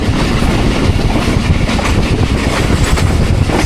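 Pakistan Express 46 Down passing straight through Mankiala station in early-morning rain, a loud, steady roar of wheels and carriages with dense clickety-clack throughout and no voices.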